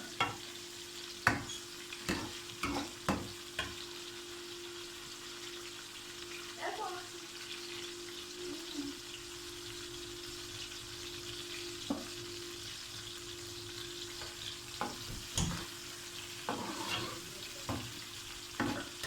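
Food frying in a pan for matar eggs, with soft sizzling under scattered sharp clinks and scrapes of stirring over a steady background hum, while someone talks quietly at times.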